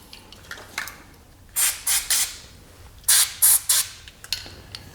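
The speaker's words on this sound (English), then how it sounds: "And then I'll also spray the battery cable terminals." Two sets of three short aerosol bursts of dielectric grease onto car battery terminals, close and crisp, separated by a pause, with faint clicks and handling noise between them.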